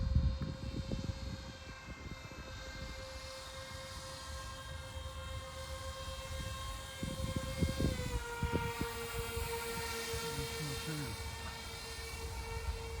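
A model Wright Flyer airplane flies overhead with a steady motor whine that holds one pitch, then drops in pitch partway through, heard continuously with wind and handling noise up close.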